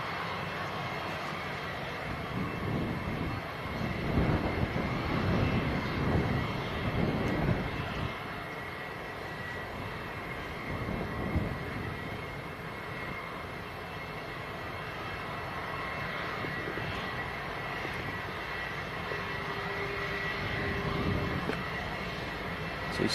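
A Jet2 airliner arriving at Leeds Bradford Airport, its engines a steady broadband roar that swells around a louder stretch early on, then holds as a continuous, moderately distant rumble with no talk.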